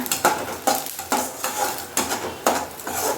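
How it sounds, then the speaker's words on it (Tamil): Garlic being sautéed in a pan for a garlic tomato chutney, with a spoon scraping and stirring in regular strokes over a soft sizzle, close and fairly loud, no voices. "நல்லா வதங்கி இதோட கலர் மாறுற வரைக்கும் நல்லா வதக்கி எடுத்துக்கோங்க"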